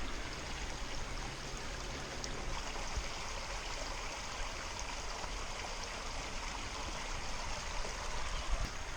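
Steady, full rush of spring water flowing over rocks near Birch Run on the Appalachian Trail, continuous and close with no pauses.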